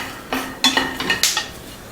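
Peanuts being toasted over low heat in a pan, stirred with a utensil that scrapes and clinks against the metal in a few short, separate bursts, fairly close and with no voices.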